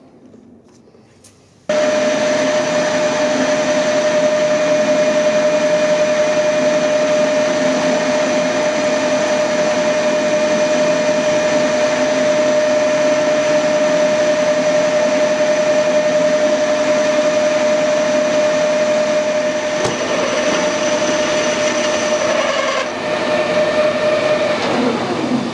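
An SNNC 225 lathe cutting a short taper kicks in after a quiet moment and runs as a loud, steady whine with a sustained tone and constant mechanical hum to the end.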